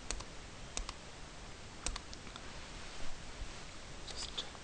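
A computer mouse clicks through a music player setup wizard on Linux Mint, giving a few faint, sharp single clicks spaced irregularly over a quiet background hiss, with no talking.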